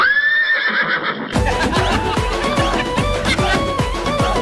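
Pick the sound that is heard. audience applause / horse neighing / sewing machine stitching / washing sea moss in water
horse neighing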